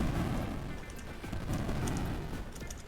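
Robot enemies blowing up in a shoot-'em-up video game, giving a steady stream of loud, rumbling booms and crackling bursts that overlap one another without pause.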